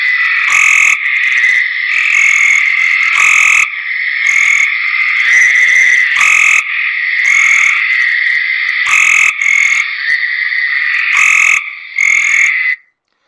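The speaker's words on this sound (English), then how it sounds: "Now here's a Cope's gray tree frog." Cope's gray tree frog calling, a loud, close, harsh buzzing trill that runs almost without a break and is clipped by short gaps and faint clicks, then stops abruptly at the end.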